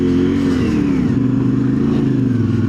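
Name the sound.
CF Moto IBEX 450 with Tusk 2 Track tires driving in snow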